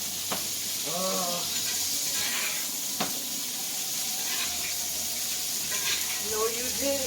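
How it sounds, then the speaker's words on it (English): Steak sears in a hot pan while melted butter is spooned over the top, giving a continuous close hiss and crackle with small bursts of spattering; a voice briefly exclaims once. "I'm going to throw in a little pat of butter. I'm going to get a spoon. Go over the top on the steak."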